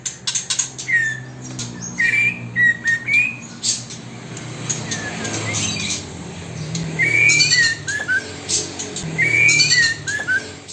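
Male trotol songbird with a long tail and black beak, giving a deep, full, rounded call: several clustered bursts of whistled and squawking notes at close range, separated by short pauses, with no talk.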